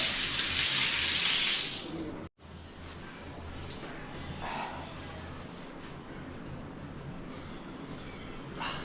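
Shower running in a newly built bathroom, a loud hiss of spray in the first two seconds, then a brief cut and a steady softer patter of water for the rest.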